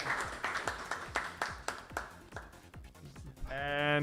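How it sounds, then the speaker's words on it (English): Sparse, rhythmic clapping from a small audience at a demoparty follows a talk. The claps are quiet and evenly spaced, then a tonal electronic sound cuts in at the end. "Big round of applause."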